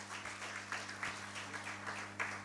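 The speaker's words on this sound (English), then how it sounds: "A round of applause for your choice for coming to this university." Applause from an audience at a university welcome ceremony for a new MBA batch, faint and distant, a steady patter of many hands with a low electrical hum beneath.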